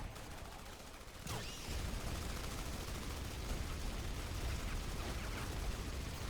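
Sustained machine gun fire in the video game Battlefield Heroes, a dense continuous rattle of shots throughout with a sharp louder crack early on, no talking.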